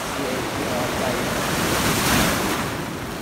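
Surf on the sandy shore of Trunk Bay in the US Virgin Islands, a close, loud broadband wash as a wave rolls in and churns up sand, swelling to a peak and then easing back.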